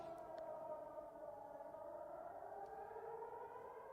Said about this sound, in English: That classic like, nuclear air raid siren.